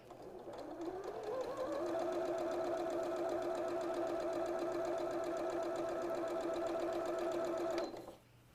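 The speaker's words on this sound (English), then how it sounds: "bring that over to your machine. And you're just sewing straight" A sewing machine sews straight along quilt binding in one continuous run of about seven seconds, ramping up to a steady whirring speed before stopping abruptly.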